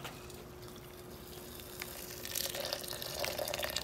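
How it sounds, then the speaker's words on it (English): Boiling water pouring into a bucket while harvesting silver crystals from a silver cell, a steady close splashing stream that grows louder and fuller in the second half, with no talking. "Boiling water."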